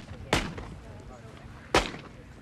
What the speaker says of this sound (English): They too shoot down 30 of the 40 clays